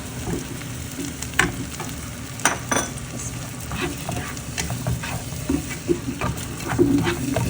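Mustard paste frying in a pan for mustard hilsa, a loud steady sizzle broken by repeated stirring scrapes and clinks.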